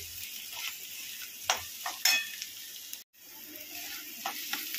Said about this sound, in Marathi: फ्राय झाली आहे डाळ, ह्याच्यामध्ये चांगली कच्चा वास त्याचा जातो म्हणून फ्राय करून घ्यायची